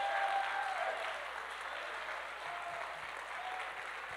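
A church congregation at a funeral service applauds in a steady, even patter of many hands clapping, moderately distant in a large room and slowly fading.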